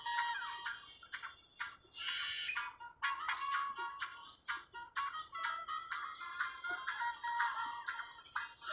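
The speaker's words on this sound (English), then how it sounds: "I hear all these birds chirping and doing what they do" Birds chirp outdoors at sunrise in downtown Las Vegas, with a continual string of sharp, bright calls and trills that are fairly close and keep overlapping, and no talking.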